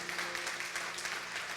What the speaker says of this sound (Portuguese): Pode aplaudir o Senhor, fique à vontade.